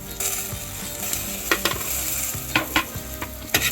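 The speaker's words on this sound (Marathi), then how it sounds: "तर हे सर्व हळू आपण मंद गॅसवर हलवून घ्यायचं एकत्र" A spoon stirs roasted sesame seeds, peanut powder and salt in a pan on a low flame, with a soft, steady sizzle and several sharper scrapes and taps against the metal.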